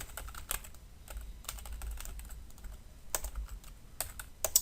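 Close computer keyboard typing, with bursts of quick key taps separated by short pauses and a faint low hum underneath, and nobody talking.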